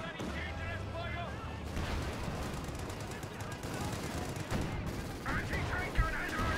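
Anti-tank gun shots fired at a tank in the video game Company of Heroes 2, a rumbling battle of gunfire and artillery booms under continuous commentator talk.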